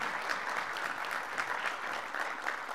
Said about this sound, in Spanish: les pido que le demos un nuevo aplauso